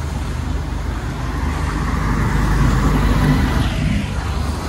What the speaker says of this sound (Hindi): देख सकते हैं गाड़ी चल रहा है उधर